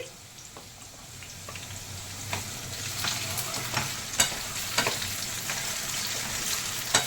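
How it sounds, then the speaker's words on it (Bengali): Potatoes fry in a pan with a ground paste of tomato, cumin, green chilli and ginger, giving a steady close sizzle with scattered crackles and pops as they are stirred. "আলু আলু একটু ভাজা ভাজা করে নিয়ে এই বেটে রাখা মশলা দিয়ে দেবো"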